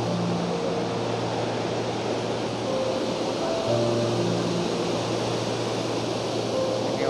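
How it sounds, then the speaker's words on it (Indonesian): Very large ocean waves roll and break against the shore at Wonogo beach in southern Malang, giving a loud, continuous roar of surf with no talking. "Ini ombak terpantau sangat besar sekali."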